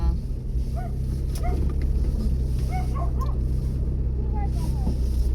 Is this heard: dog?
yes